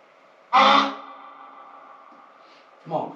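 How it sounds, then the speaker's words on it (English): One sudden, piercing shriek from an Aztec death whistle blasts out, loud and harsh, then fades into a lingering echo, followed by a brief voice at the end. "This is actually called the Death Whistle, Aztec Death Whistle"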